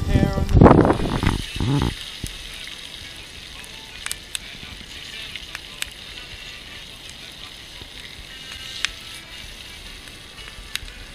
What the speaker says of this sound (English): Mud trout fillets, bit of camp spice and flour. Going in the pan shortly. Sizzle.